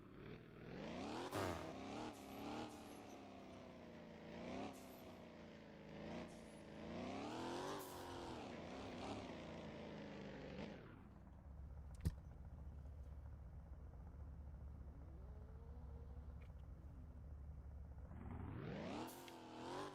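Mazda RX-7 rotary engine in the Fix It Up video game, revving hard in repeated rising and falling bursts, then settling to a low steady idle before climbing again at the end.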